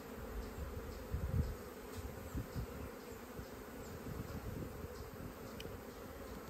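Honeybees humming around an opened hive during a beekeeping inspection, a steady low drone that swells slightly at moments, with faint handling noises.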